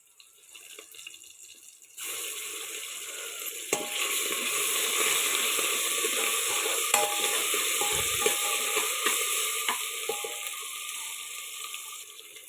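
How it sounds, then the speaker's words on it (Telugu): Potatoes sizzling in a pan for potato curry: a steady, bright frying hiss begins suddenly and continues evenly, with occasional small pops and clinks over the sizzle. "ఇది వేగనివ్వండి"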